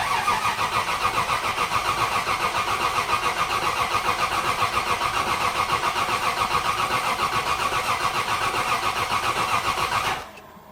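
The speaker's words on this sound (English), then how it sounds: "I want to crank it a bit so the oil light goes out." A Toyota 5M-E engine cranks steadily on the starter with its distributor disconnected, so it never fires. The fast, even churning runs loud and unbroken for about ten seconds, then stops abruptly.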